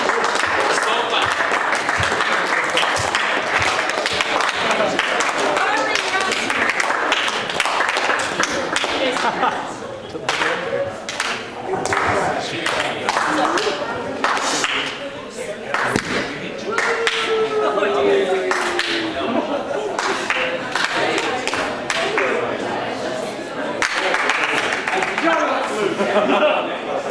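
Slow, uneven clapping from an audience at a coffee house performance night runs for a long stretch, with bursts of sharp claps alongside voices talking and some chuckling throughout.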